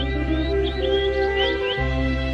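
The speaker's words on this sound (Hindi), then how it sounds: "दूर से आती है चिड़िया की आवाज।" Cartoon bird chirps drift in the distance in a Hindi-dubbed Doraemon episode, a string of faint, quick rising tweets over a steady sustained music bed.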